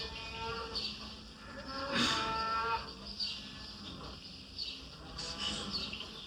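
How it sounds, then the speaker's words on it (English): Several cows moo and bellow in loud, drawn-out calls, one rising above the others, with other cattle answering nearby across a steady farmyard background. "the cows were bellowing like crazy."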